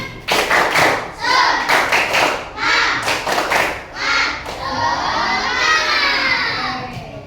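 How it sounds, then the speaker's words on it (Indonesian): A class of fourth-grade children at an Indonesian primary school performs the tepuk semangat clapping chant, with bursts of rhythmic claps and thumps mixed with loud shouted voices, ending in sustained excited cheering. "kita tepuk semangat dulu"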